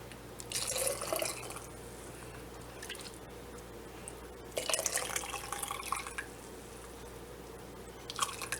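Beans and liquid being ladled into a canning jar, with wet dripping and splashing bursts near 0.5–1.5 s, around 5–6 s and briefly at the end, over a steady low hum with no talking.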